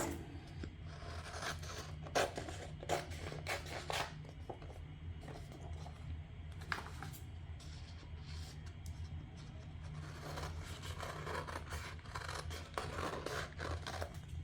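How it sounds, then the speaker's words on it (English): Scissors snip steadily through inkjet transfer paper in a continuous run of crisp, close cuts, with soft rustling and scraping throughout. "I'm just going to cut around it with scissors"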